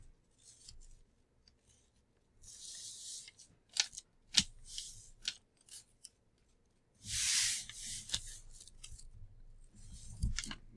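Scissors snip through a paper dress pattern to open a new dart, producing a series of short, crisp cuts and rubbing paper rustles spread irregularly across the stretch, close and clear with no speech.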